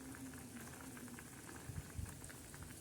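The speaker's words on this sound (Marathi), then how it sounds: "छान अशी दोडक्याची भाजी शिजत आहे" Ridge gourd curry with moth bean dal simmers in a pot, its soft, continuous bubbling faint and steady with a few slightly louder pops.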